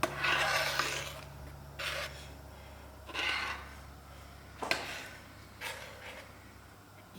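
A spoon stirs thick vermicelli dessert in a pan with soft, scraping rubs repeating every second or so, fairly quiet and close, with no talk.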